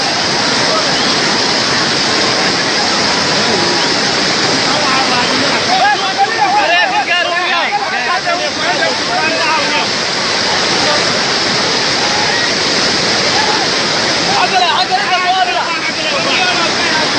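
Powerful rushing floodwater in Kenya roars continuously and loudly close by, a dense steady wash of noise, with people shouting and talking faintly beneath it.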